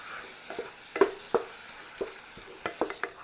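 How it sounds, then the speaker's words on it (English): Ground hamburger meat browns in a pot for homemade vegetable beef soup, a soft low sizzle punctuated by a series of spoon scrapes and knocks against the pot, close and fairly quiet. "Just keep browning our hamburger."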